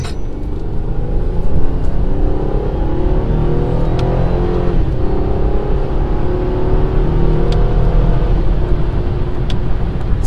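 Acura RDX with a 3.5 liter V6 pulling hard up a highway on-ramp, a loud, continuous engine roar climbing through the gears with steady road rumble underneath.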